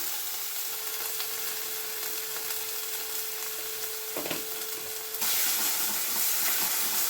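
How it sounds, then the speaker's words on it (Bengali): A fresh paste of ginger, onion, garlic, green chili and raw turmeric, salted, fries in oil in a pan with a soft continuous sizzle and hiss. It turns noticeably brighter and louder near the end, with no talking. "আমি একটু এই মশলাটাকে কষিয়ে নেব যাতে কাঁচা গন্ধটা চলে যায়।"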